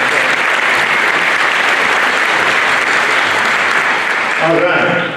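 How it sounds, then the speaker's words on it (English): Sustained audience applause fills a winter band concert hall, a dense steady wash of clapping at full level that thins near the end as a voice briefly emerges. "That's why I gave him a big applause over there."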